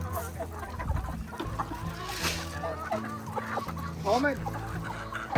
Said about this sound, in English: Here's some of our sweet baby turkeys.